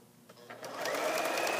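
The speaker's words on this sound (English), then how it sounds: "So you're going to continue to sew all the way around" A sewing machine straight-stitching around a fabric hem, motor whirring up from a few starting stitches into a steady, close, continuous run.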